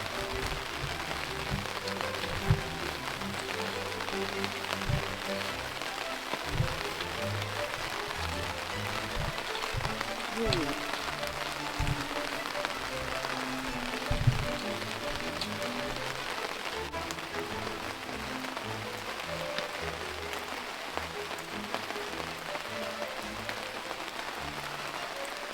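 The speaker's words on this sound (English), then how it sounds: "I'm wondering if you can hear the rain." Rain falls on a garden greenhouse as a dense, even patter that holds steady for the whole stretch, close and moderately loud. Occasional heavier drops stand out, and no one talks.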